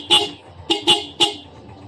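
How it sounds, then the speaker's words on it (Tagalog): Four short, sharp horn beeps from a Suzuki Smash 115 motorcycle sound close by: one toot, then a quick pair, then a final toot. "so yan yung busina natin, medyo irritating siya"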